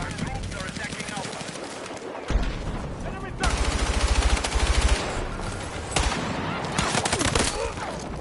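Rapid pistol gunfire from a Battlefield 6 match, bursts of quick cracking shots repeating through the whole stretch alongside other battle noise, loud and close.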